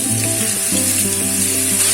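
Fish pieces sizzle in hot sesame oil with curry leaves for a Kerala-style pickle, a steady, close, loud frying hiss that runs throughout with a tonal musical background underneath.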